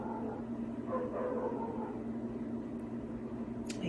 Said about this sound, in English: I hate it when he barks like that